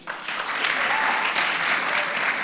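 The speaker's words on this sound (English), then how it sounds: "Can you clap for him?" Audience clapping for a professor at a gathering, rising quickly into a steady round of applause that holds for a couple of seconds.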